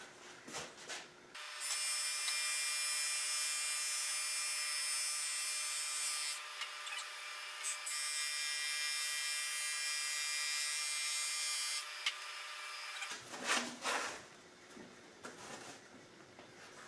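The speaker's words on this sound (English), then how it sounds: "I took the boards through the board sander once again" A board sander runs wood guitar side and back boards through for long stretches, giving a steady high-pitched grinding whir that is bright and continuous, with quieter handling noises before and after.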